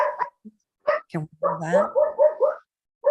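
A person vocally imitates a dog's barking with a few short woofs during a public board meeting, mixed in with close conversational talk.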